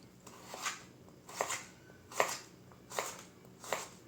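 A knife cuts vegetable strips into julienne for homemade sushi, making five evenly spaced, crisp chops against a cutting board in a quiet kitchen.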